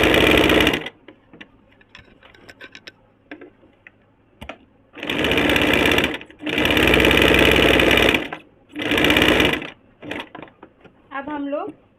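A sewing machine double-stitches the same spot on a kurti waist, running in several loud bursts of rapid mechanical whirring separated by pauses filled with quiet handling clicks.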